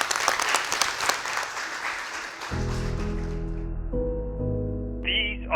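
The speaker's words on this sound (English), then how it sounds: "you want to give them a big round of applause for the students" Parents, grandparents and families applaud students, a brief burst of clapping that fades out after a couple of seconds as sustained musical tones take over.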